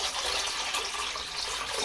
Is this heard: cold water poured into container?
yes